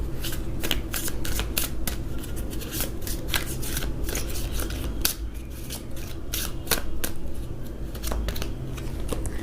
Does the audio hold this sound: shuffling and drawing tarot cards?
yes